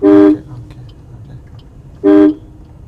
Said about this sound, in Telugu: హార్న్ కొట్టండి, బ్లైండ్ టర్నింగ్ కదా